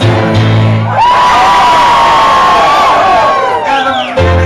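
A piano bar crowd at a closing-night sing-along, loud whoops and a sustained cheering shout over dense crowd noise and music, near and boisterous throughout.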